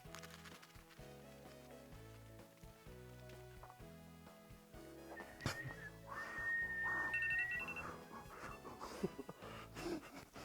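After eating star candy from hardtack during a one-minute challenge at a family worship service, a person manages a short, thin whistled tone lasting about a second, rising over background music and breathy noise.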